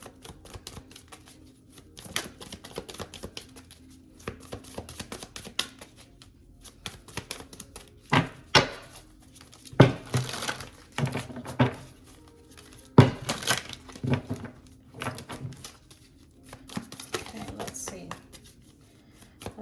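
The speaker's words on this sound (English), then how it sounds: "Let me shuffle one more time." Tarot cards are shuffled in quick papery riffles and taps, coming in irregular bursts, close up and fairly quiet.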